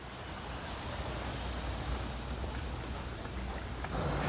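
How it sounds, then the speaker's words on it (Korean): Stream water flowing near a walking path by Eunpyeong Hanok Village in Seoul, a constant broadband rushing hiss that stays steady and fairly loud with no talking. "저기도 시냇물 소리가 들리네"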